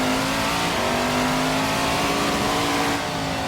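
Simulated LMP1 prototype race car of almost 1,000 horsepower driving in the rain in Assetto Corsa, its engine holding a steady, loud droning whine with a faint pitch rise before easing slightly near the end.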